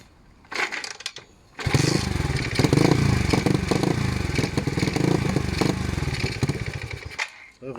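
A YCF pit bike engine cranks briefly, then catches and runs with a loud, rough buzzing idle and revs for several seconds before cutting out.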